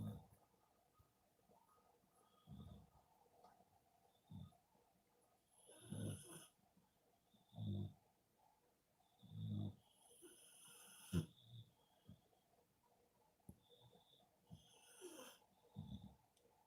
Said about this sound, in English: It's like they're having a contest on who can snore the loudest.